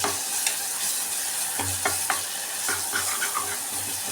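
Ginger frying in oil in a pan for gongura pulao, giving a steady close sizzle with scattered spatula scrapes and stirring taps throughout, no voices.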